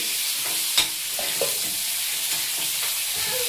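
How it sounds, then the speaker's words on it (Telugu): Tomato pieces and green chilies fry in a pan for a village-style ivy gourd chutney. A close, steady hiss of oil runs throughout, with a few light stirring knocks, and no one speaks. "దీంట్లో టమాటా ముక్కలు వేస్తున్నానమ్మా టమాటాలు పచ్చిమిర్చి బాగా వేగాలి"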